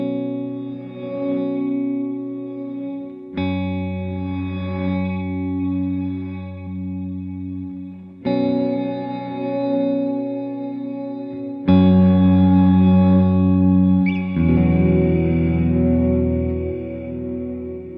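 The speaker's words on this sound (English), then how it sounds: "that's me change that just to the, what did I change that to? Reverse there." Electric guitar chords played through a Strymon BigSky MX reverb pedal set to reverse reverb, each sustained chord swelling and washing out with smeared tails, several chord changes in a row with no talking.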